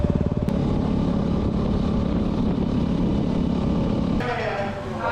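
A dirt bike engine drones loud and steady on a spring trail ride toward Phu Yen, its tone shifting slightly near the end with wind rush mixed in.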